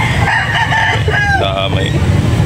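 A Kelso gamefowl rooster crows at a chicken market in Carbon, Cebu, with one loud, close, wavering crow over a busy background of crowd noise and voices.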